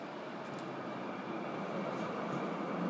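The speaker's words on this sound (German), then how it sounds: "Es fährt ein PT-Wagen der VGF." An older VGF PT-type tram rolls into a stop in Frankfurt, a steady rushing rumble of wheels on rail that grows slightly louder over a few seconds, heard from nearby with no talking.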